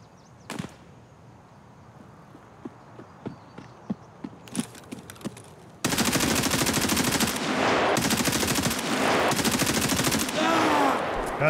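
Sustained automatic gunfire from the video game Escape From Tarkov, Labs map, beginning after scattered sharp shots and footsteps, then a loud, dense burst of rapid fire lasting several seconds with brief pauses between strings.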